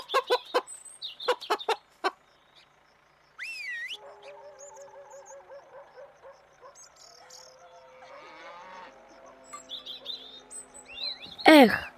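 Farmyard fowl clucking and crowing in short bursts, with a rooster's call near the end, alongside other livestock sounds.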